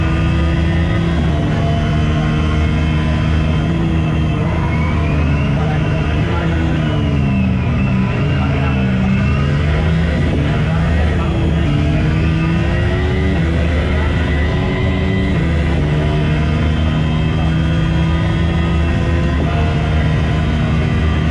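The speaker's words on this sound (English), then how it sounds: "this is the world's first horizontal zipline with a turbo-fan engine" A horizontal zipline driven by a turbo-fan engine roars continuously, a loud sustained whooshing drone with shifting pitch, heard at a busy amusement expo.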